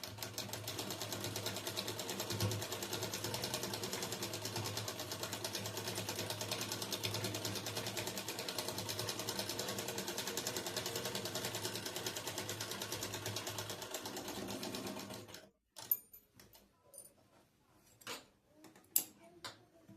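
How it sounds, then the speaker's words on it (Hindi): A sewing machine runs a long continuous line of stitching along a garment lining, a steady mechanical whir that stops abruptly near the end, followed by a few scattered clicks and handling knocks. "अस्तर में फिनिशिंग के लिए इसके ऊपर एक सिलाई लगा लेंगे।"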